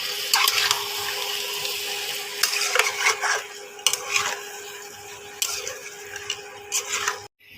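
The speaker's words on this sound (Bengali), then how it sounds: "এবার বন্ধুরা এটা একটু কষিয়ে নেব।" Marinated chicken in sour yogurt with salt and a pinch of sugar is stirred and sautéed in a pan for butter chicken kabiraji, giving soft scraping and sizzling with intermittent sharper spoon clatters, close and fairly quiet.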